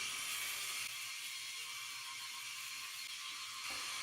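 A Philips Norelco 9800 electric shaver runs steadily while shaving a beard, giving a continuous close buzzing whir with a slight shift in tone near the end as pressure changes.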